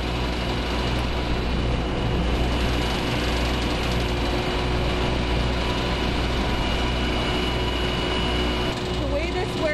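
Biochar production machine fed with wood chips, running as a steady, loud low-pitched engine drone with mechanical hum, persisting evenly throughout under occasional indistinct talk.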